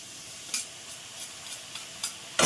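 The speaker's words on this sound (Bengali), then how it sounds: "এইবার দেখো আমি এগুলোকে পুরো ভেতরে ছেড়ে দিচ্ছি, একদম পুরো মচমচের ভাবে ভাজাটা হবে" A faint, steady sizzle of snacks deep-frying in hot oil with soft clinks of a utensil stirring at intervals, ending in a louder scrape; no talking.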